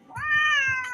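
A single drawn-out cat meow, clear and close, rising then holding before tailing off, with faint thumps beneath.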